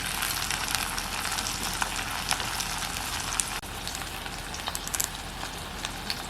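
Garlic frying in hot oil with mustard seeds and urad dal for sevai upma: a steady, close, dense sizzle with sharp crackles and pops throughout, easing slightly partway, no voices.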